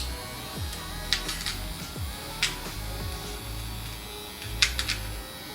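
Manscaped nose and ear hair trimmer buzzing steadily up close, a low electric whir with intermittent brief scratchy clicks as it trims, no voices.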